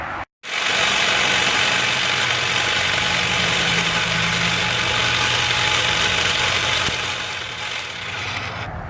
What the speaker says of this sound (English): I'm going to demonstrate using the Ryobi edge trimmer on a butterfly bush